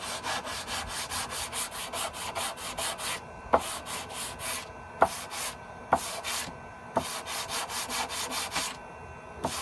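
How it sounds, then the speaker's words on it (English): A sanding block rubs back and forth over a wooden axe handle on an old Norlund axe, in rhythmic rasping strokes with occasional sharp knocks, close and steady. "Took me a couple of times to get the sanding block where it was about the right radius"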